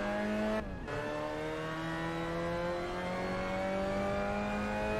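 Race car engine in the sim racing game Assetto Corsa, revving steadily with rising harmonic pitch after a brief dip as the throttle drops, loud and continuous with no talking.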